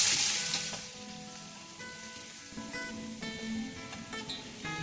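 Vegetables sizzling and frying in hot oil for Bengali sukto, a steady crackling hiss with occasional stirring clinks, close and moderately loud, no voices.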